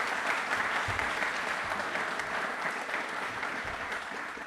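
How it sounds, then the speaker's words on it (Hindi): Studio audience at a Republic Day special quiz show on DD Rajasthan breaks into steady, dense applause, a sustained wash of many hands clapping throughout with no pauses. "हम सब अपने लिए तालियां एक बार जरूर जोरदार बजाएंगे प्लीज"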